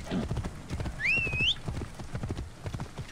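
Horse hooves clip-clop at a steady trot in Assassin's Creed Origins, a close, rhythmic series of hoofbeats joined by a short high-pitched whinny in the middle.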